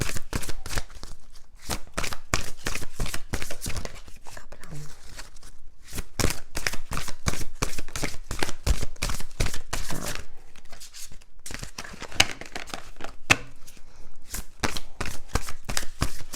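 Oracle cards are shuffled by hand for a final advice draw, producing a long run of quick, evenly spaced riffling slaps and papery flutters, close and clear throughout, with a voice speaking softly among them.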